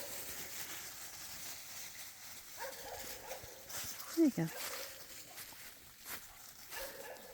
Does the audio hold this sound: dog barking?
yes